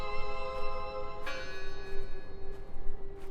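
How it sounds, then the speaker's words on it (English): A church bell in the video game Draugen tolls with a long, ringing hum and rich overtones, one clear strike partway through over a steady resonant sustain and soft ambient noise, no talk. "We can all hear the bell, Lizzie, yeah."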